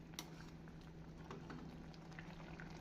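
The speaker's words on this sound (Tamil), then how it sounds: "இந்த கொதிக்கும் தண்ணீரிலே பூண்டும் வெங்காயம் நன்றாக வெந்துவிடும்" Water boils with garlic and onions in a kadai for a traditional Tamil garlic gravy, giving a faint, steady bubbling and patter of small pops, with no talk.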